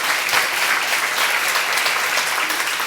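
A seminar audience applauds together in a sustained, dense burst of clapping that fills the room evenly from start to finish.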